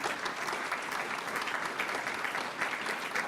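An audience at a school board meeting claps in sustained, dense applause, a steady wash of many hands close by with no pauses.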